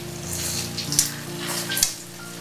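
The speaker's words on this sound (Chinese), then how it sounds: "煎豆腐一定要有耐心" Tofu pan-frying over medium-low heat sizzles steadily in a pan, a continuous crackling hiss with a couple of brief sharper pops, and no voices.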